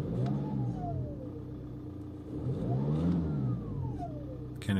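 A VW 2.0 TDI car engine with a turbo noise that persists after the turbo was removed and cleaned, running with the AC on, idling steadily and rising into two revs with a whistling tone that climbs and falls, heard close and alone.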